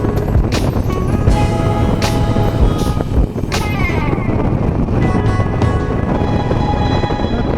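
A Harley-Davidson Nightster motorcycle rides on heavily salted winter roads, its engine droning loud and continuous under strong wind buffeting on the microphone, with the pitch shifting as the revs change.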